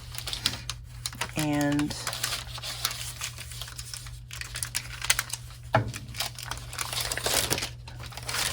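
Pinking shears cut through a paper bag in a craft project, giving intermittent crisp snips and paper crinkles close by, under a woman's speech.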